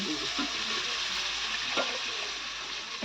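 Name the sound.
water added to frying fig in pan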